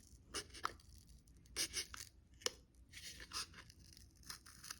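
Adult scissors snip and tear at the edge of a started hole in cardboard, a string of faint, close, sharp crunching cuts at an uneven rhythm.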